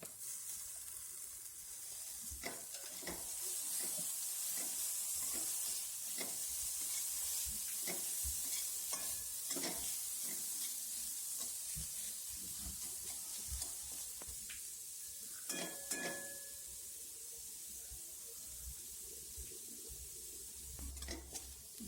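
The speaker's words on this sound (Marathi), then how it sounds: "चांगलं परतून घ्यायचं आहे कांदा आणि ते सगळं." Chopped onion sautés in a pan with bay leaf and curry leaves while matki usal is cooked, giving a steady soft sizzle broken by repeated scraping stirs of a spoon.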